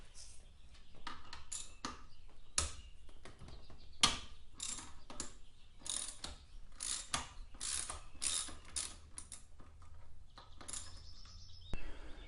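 Ratcheting clicks from a socket wrench backing out a T45 Torx bolt on a Mini Cooper seat belt tensioner, close and fairly quiet, with irregular bursts of fast clicks and occasional metallic clanks, no talking.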